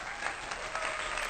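Faint, steady applause from a cat show audience, a short burst of clapping heard from a distance without any voices.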